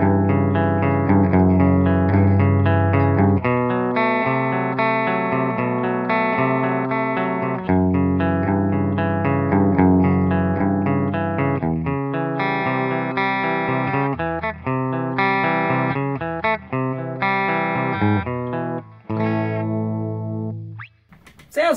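Electric guitar played through a Boss Katana 100 amp on clean tones, a steady run of picked chords and riffs, loud and close with light effects, ending with a short string scrape.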